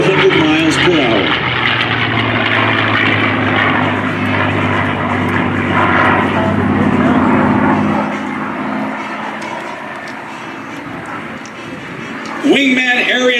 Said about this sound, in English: The D model Mustang was the most built and was able to fly at speeds over 400 miles per hour.